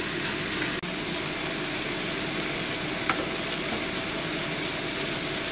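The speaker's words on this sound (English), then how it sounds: "And we'll let it cook down a little bit." A taro stir fry sizzling steadily in a pan as it cooks down, a continuous close hiss with a faint clink or two and no talking.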